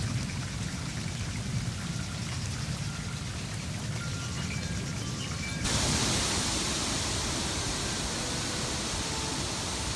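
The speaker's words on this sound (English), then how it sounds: "Listen to the rain." Steady rain in Buena Vista, Colorado hisses as a dense, even wash of noise, turning brighter and louder partway through, with no voices.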